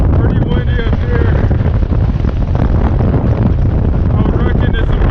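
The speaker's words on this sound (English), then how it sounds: "Pretty windy up here." Strong wind roars and buffets across the microphone high on Mount Adams near Pikers Peak, a loud, constant rumbling gust with no letup.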